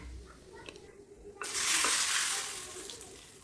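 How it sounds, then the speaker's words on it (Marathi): Hot mustard-seed tempering poured onto mango pickle, producing a sudden loud sizzling burst that follows a few faint clinks and slowly fades. "आता हा तडका लोणच्यावर ओतू"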